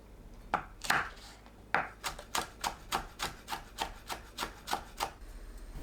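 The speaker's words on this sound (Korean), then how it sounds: "마늘을 채 썰어주세요." A knife cuts garlic into fine julienne strips on a board, giving a quick, even series of crisp, close chops that settle into a steady rhythm.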